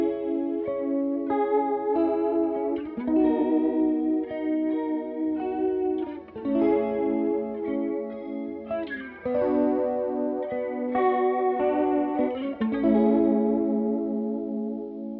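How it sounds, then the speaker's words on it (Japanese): Electric guitar played through a phaser effect whose sweep speed keeps rising, giving a series of strummed chords with an increasingly fast swirling wobble; close, steady and free of talk. "でフェイザーにかけてるんですが、このフェイザーの速度をどんどん上げていく。"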